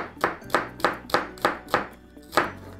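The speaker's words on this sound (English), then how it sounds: "So take your time when you are chopping." A knife chops vegetables on a board in a steady series of about seven crisp, close strikes spaced roughly half a second apart, with a brief pause before the last one and no talking.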